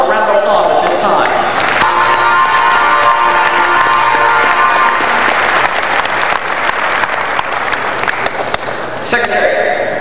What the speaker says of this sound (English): Let's give our sponsor a round of applause at this time.